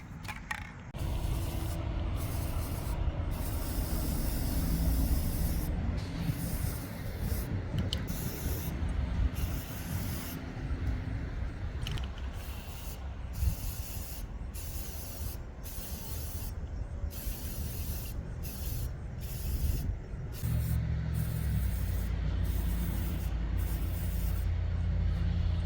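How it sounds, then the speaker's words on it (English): Aerosol spray paint hisses onto a desk in repeated bursts, some short and some sustained, with brief gaps between passes, all close up over a low background rumble. "I'll spray paint it"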